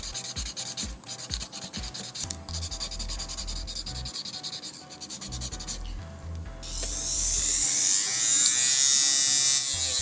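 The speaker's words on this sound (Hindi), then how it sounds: "हम उसी तरह जो है वो ड्रिल के साथ अपनी नेल की शाइन रिमूव करेंगे।" An electric nail drill buffs the shine off a nail before gel work, with a steady high-pitched buzzing grind that rises louder and brighter toward the end, with no voices.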